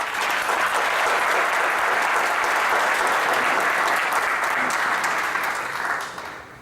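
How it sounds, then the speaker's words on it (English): An alumni reunion audience applauds in a steady, dense wash of clapping that holds for several seconds and then tapers off at the end. "Please give them a round of applause."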